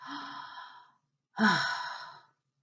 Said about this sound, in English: Hold up your 10 fingers and pretend they're candles. Slowly breathe each out like this.